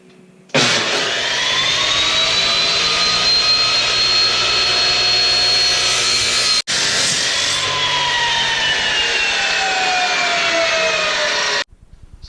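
A loud power saw cuts a miter in a workbench drawer piece, making two long, whining cuts of about six and five seconds with a brief break between them.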